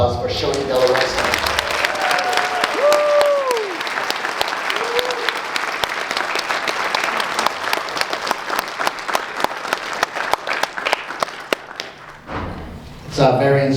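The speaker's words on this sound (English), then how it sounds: "Let's have a round of applause for Shonie De La Rosa." An audience at the premiere of a Navajo film applauding, a loud, full burst of clapping from many hands that fades into scattered individual claps and then stops, with a few voices and whoops mixed in.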